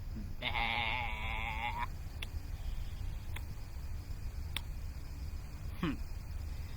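A goat gives one long, wavering bleat that rises above a steady low rumble, followed by a few faint scattered clicks.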